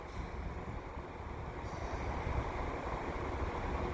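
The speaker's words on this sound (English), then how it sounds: "we got a CP freight train headed east" A heavy eastbound CP freight train, with GE locomotives, rumbles past steadily nearby at Dorval station in winter, a broad continuous roar of wheels and cars that swells slightly louder toward the end.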